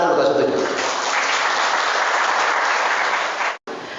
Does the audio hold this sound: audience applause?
yes